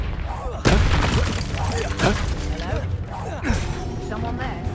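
Confringo fire spell blasting in the Hogwarts Legacy video game, a sudden loud explosive boom followed by crackling debris and further impacts, with character voices speaking over the game sound.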